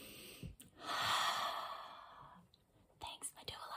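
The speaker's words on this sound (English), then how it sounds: "And I'm breathing." Close, audible breathing, a long drawn breath in the middle with softer breaths and small mouth noises around it, no words spoken.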